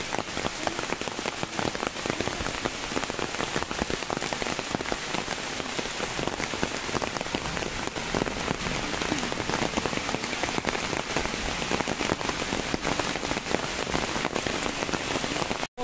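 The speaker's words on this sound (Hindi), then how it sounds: "ये देखिए कितनी तेज बारिश हो रही है" Heavy rain falls steadily outside, a loud, dense, continuous hiss of drops pounding on surfaces, with no voices.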